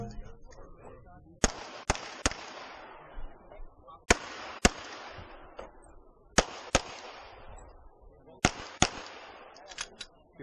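Gunshots ring out at an action shooting competition stage, sharp loud cracks in tight groups of two or three with pauses between, echoing outdoors, and faint voices in the background.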